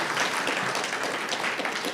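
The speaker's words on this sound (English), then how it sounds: "please give her a round of applause, please" A crowd applauds steadily, dense clapping filling the whole moment at an even, sustained level.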